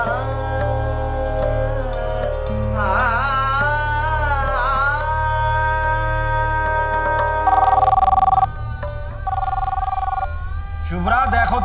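A telephone rings repeatedly with an electronic ringtone melody over a steady low background of music in a crime drama scene.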